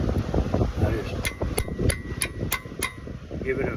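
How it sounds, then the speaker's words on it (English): Hammer tapping on a front brake part of a 2018 Chevrolet Impala in a garage: about six sharp, evenly spaced metallic knocks ringing out over low background rumble and faint talk. "give it a couple of little whacks like that with a hammer"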